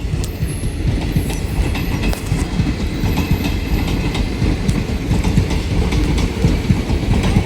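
The Bhagirathi Express passenger train rolls past nearby at Murshidabad station, loud continuous rumble with clattering wheels and occasional metallic squeals, no voices.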